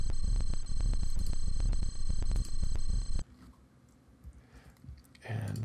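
A high-pitched Pico-8 chiptune drone for horror ambience, transposed up very high, sounds loud and steady with rapid clicking pulses, then cuts off abruptly into quieter noise.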